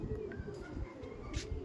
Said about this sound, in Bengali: এগুলো চেন্নাইয়ের পায়রা